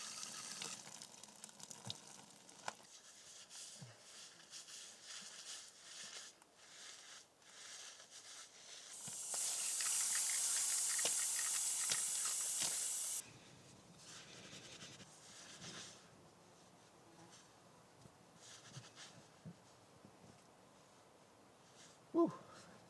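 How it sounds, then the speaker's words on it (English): Water from an outdoor camp shower in a shaded backcountry campsite runs steadily for a few seconds mid-stretch, a hissing spray between quieter outdoor ambience. "Taking a shower."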